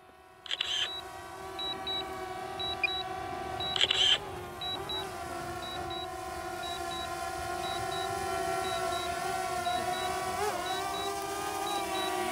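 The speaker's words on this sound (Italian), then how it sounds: "Intanto scatto pure qualche foto." A few sharp camera shutter clicks in quick bursts early on, over a steady mechanical hum of a DJI Mavic Air drone with faint repeating beeps.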